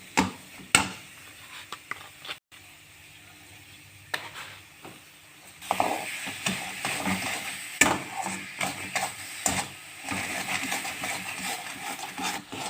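Grated carrots stirred in hot ghee in a karahi, with a soft background sizzle broken by irregular scraping and clinking of the spoon against the pan, close and moderately loud, with no talking.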